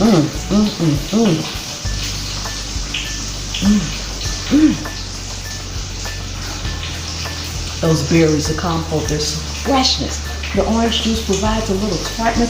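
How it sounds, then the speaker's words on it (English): Bacon sizzles and crackles softly in a frying pan in the background at breakfast, a steady hiss running beneath someone talking close by. "if you hear some sizzling in the background, that's my bacon"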